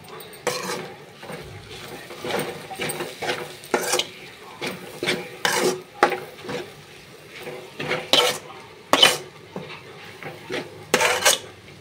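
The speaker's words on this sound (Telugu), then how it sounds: "ఇలా లైట్గా మసాలా వేసి కలుపుతూ ఉండాలి" Masala stirred into egg Maggi noodles in a pan, a series of irregular scraping and clinking utensil strokes against the pan, moderately close, with quiet pauses between bursts.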